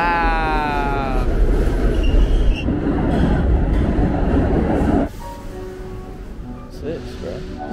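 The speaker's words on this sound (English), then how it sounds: "Look at the train." A train rumbles loudly past at close range, then the roar drops away abruptly, leaving a quieter hum with faint tones.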